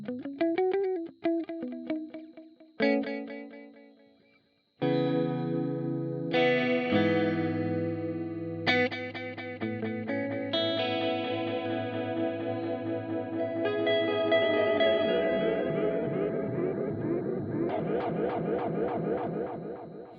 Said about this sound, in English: it just works like a normal delay now